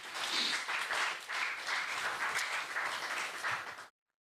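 A temple community at ISKCON Dallas applauds its serve-out volunteers, a sustained crowd clapping that stays even and fairly full for nearly four seconds before cutting off abruptly into silence.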